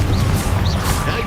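Confringo blasting spell detonating in Hogwarts Legacy, a loud crashing burst with smashing impacts and swishing magical whooshes layered over a heavy low rumble, close and continuous.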